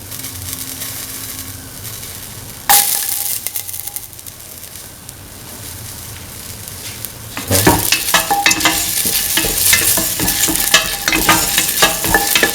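Garlic frying in a pan for a lentil, snake gourd and coconut milk stew, loud sizzle with sharp metallic stirring scrapes that grow busier in the second half, no voices.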